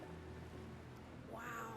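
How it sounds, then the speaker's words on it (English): A house cat meows once softly at a distance, behind low steady background noise and game audio. "That's my cat right now"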